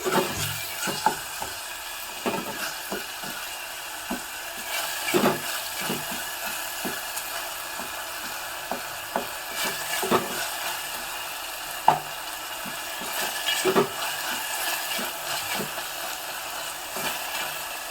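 Frying in a little oil with salt, a faint steady sizzle broken by repeated wooden-spoon stirs and scrapes against the pan.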